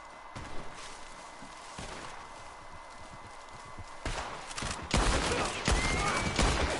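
Sawed-off shotgun blasts in the Red Dead Online video game: a few heavy, close shots burst out in the second half over a steady background with clopping horse hooves.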